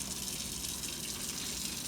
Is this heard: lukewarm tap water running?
yes